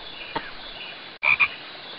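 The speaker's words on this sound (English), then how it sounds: "It's mating season, and Fernando Frog has to sing to attract the females." A cartoon frog croaks in a rainforest mating-song minigame of a Magic School Bus video game: two sharp croaks follow a faint earlier one over a steady tonal background hum.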